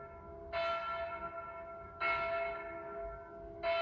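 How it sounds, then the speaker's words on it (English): A village temple bell rings in three clear, resonant strikes about a second and a half apart, each leaving a long humming decay, heard alone at moderate distance. "they heard sounds of ringing bells from the nearby village"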